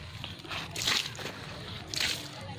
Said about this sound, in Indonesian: setiap hari disiram semua